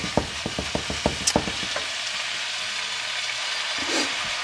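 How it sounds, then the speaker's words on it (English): Drained hamburger is stirred together with celery, bean sprouts and onions for egg roll filling, with a run of quick, close spoon clicks against the pan first, then a quieter soft hiss and scraping. "I just added the drained hamburger to the celery, bean sprouts, and onions. And mix it all up good."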